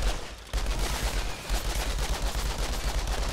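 Rapid, booming gunfire from the video game Outriders, a dense stream of loud shots after a brief quiet opening, continuing steadily with heavy low thumps and no talking.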